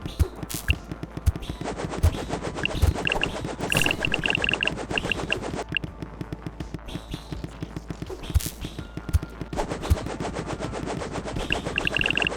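A bullet pulse weapon in the video game Her Name Was Fire fires in rapid, continuous bursts, a dense stream of sharp gunfire-like pops over layered game effects and chiming tones, steady and loud throughout.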